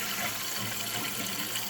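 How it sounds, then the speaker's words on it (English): A toilet with a ball cock valve flushes, water rushing in a steady, full hiss and gurgle, close and continuous without speech. "Give it a flush."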